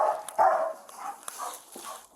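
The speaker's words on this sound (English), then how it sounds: "This video shows the last minutes of the life of Bingo, the police service dog." A police service dog heard in body cam footage: a short run of close, strained barks and yelps that are rough and uneven, with no talking.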